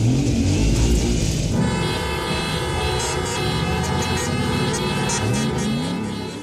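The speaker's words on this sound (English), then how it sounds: "Those are the sounds of Road Rave, a freeform symphony of car horns conducted by Laurie Anderson" Many car horns blare together with running engines in Road Rave, a freeform car-horn symphony conducted by Laurie Anderson, forming a loud, dense, continuous wall of sustained overlapping tones.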